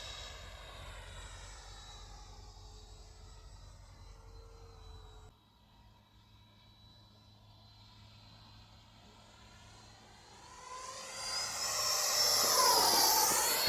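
90mm Freewing F-18 Hornet electric ducted-fan model jet making a pass, a whooshing turbine-like whine that fades, dips, then swells loudly as the model closes in and sweeps by overhead.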